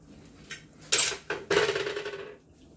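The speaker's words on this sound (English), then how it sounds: "So I'm going to take my jars out." Hot glass canning jars of raspberry jam lifted out of a pot of boiling water, giving a few close clinks and knocks of glass against metal, followed by a longer rattling, dripping clatter as a jar comes free.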